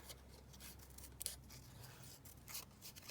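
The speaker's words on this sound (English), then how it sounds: "I'm just going to cut that top flower off completely." Scissors snip through a paper flower in a papercraft project, giving several soft close cuts and a brief sharper snip amid quiet rustling paper.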